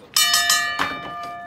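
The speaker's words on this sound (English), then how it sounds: "Let me go ring the bell" A ring bell at an independent wrestling show strikes several times in quick succession, each clang bright and ringing, with a louder strike partway through and tones lingering in between.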